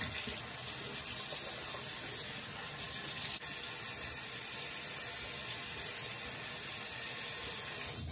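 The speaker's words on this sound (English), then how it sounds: "let's wash it off with cold water." Cold tap water running steadily into a sink while a face is rinsed after a shave, a close, continuous splashing hiss with no talking.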